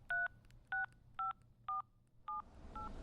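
Telephone keypad dialing: six evenly spaced DTMF tone beeps, clear and close, followed by rising background hiss at the end, with no talking.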